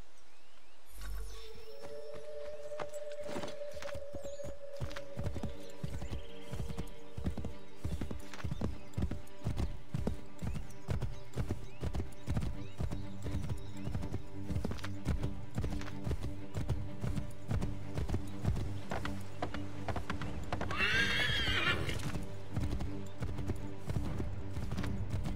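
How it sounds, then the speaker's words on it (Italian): A horse in Assassin's Creed III neighs early on, then its hooves clatter in a quick, steady galloping rhythm close up for many seconds. A brief burst of other noise rises near the end. "Prendi il cavallo, portalo qui!"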